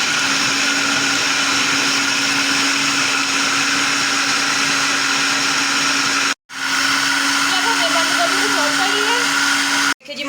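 An electric chopper whirs steadily while chopping radish for kachumber salad, a loud, continuous motor whine that cuts out briefly twice before restarting.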